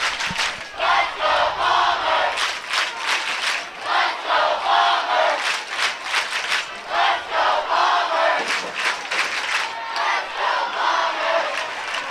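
Loud, rhythmic chanting and cheering from the football crowd at a Mountain Home Bombers versus Harrison Goblins high school game, repeated surges of massed voices close by and sustained throughout.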